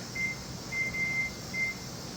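A kitchen timer in a home canning kitchen with a pressure canner, giving a few short high electronic beeps, one held longer, while it is set, over a steady background hum.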